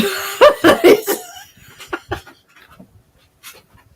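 A lively dog pants and huffs in short rapid bursts up close, loudest at the start and then trailing off into fainter scattered breaths and small noises.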